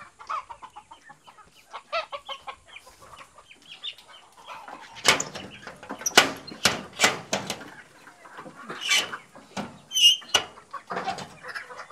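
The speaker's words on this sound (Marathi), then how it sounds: "फक्त मी कडीचा आवाज करतो ते लगेच येतील बघा सगळे रिटर्न मध्ये." A metal door latch rattles on a village coop of native Konkan chickens: several sharp, close clanks and knocks come in a burst midway, while hens cluck and fuss around it.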